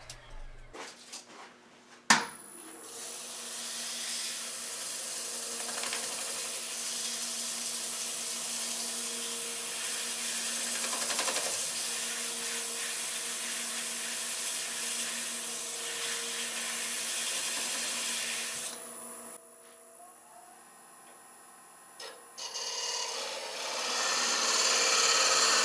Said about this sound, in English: I'm sanding the inside of the bowl with sandpaper wrapped around a 1-inch dowel